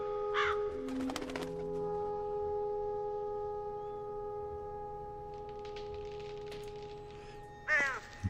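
Large black crows caw harshly in The Lost Crown near an abandoned church, one call near the start and another near the end, framed by a steady tonal drone and low background hum.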